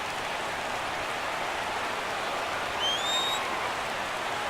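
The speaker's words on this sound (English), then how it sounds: "Crowd gets up for the 3-2." Stadium crowd in MLB 17 The Show roaring for a 3-2 count, a steady broad wash of cheering and clapping that rises slightly midway, with a faint whistle sliding upward above it.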